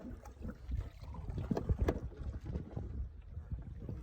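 A canoe is paddled upwind on open water in high wind while fishing, with strong buffeting wind noise, water sloshing against the hull and irregular paddle strokes, all close and fairly loud, without clear talk.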